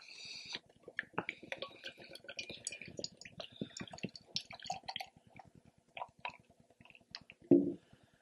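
A blackberry peach fruited sour beer is poured into a glass, giving soft splashing, dripping and crackling fizz up close, with a louder knock near the end.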